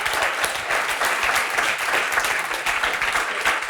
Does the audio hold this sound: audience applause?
yes